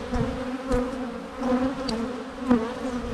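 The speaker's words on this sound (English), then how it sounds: "That's crazy that there's still this many bees and this is after a swarm." Honeybees swarm thickly around a hive after a swarm has left, producing a dense, steady buzz with a low droning hum and a few louder individual bees passing close by. No one speaks.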